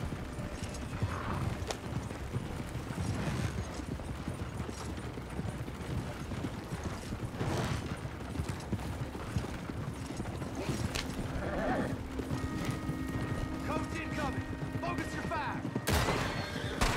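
Horse hooves clip-clop steadily with occasional neighs and whinnies in the Red Dead Redemption 2 video game, under a continuous bed of game sound and mechanical clatter, with a faint voice talking.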